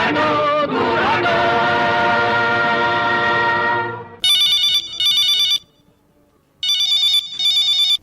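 A telephone rings for a radio phone-in request programme, with two double bursts of bright, trilling electronic rings sounding loud and close right after music fades out.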